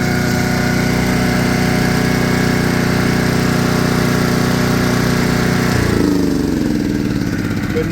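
A Honda GX powered Kodiak SGA2800HX generator runs under a load of about 6 amps, a steady, loud engine drone with a constant hum that shifts slightly in pitch near the end.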